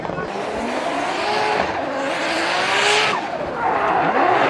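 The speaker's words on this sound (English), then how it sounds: "Yamashita burning through his tire and gapping" A Formula Drift Japan car drifts, its tires squealing and its engine wailing loud and close in a sustained roar of skidding rubber that swells and shifts in pitch.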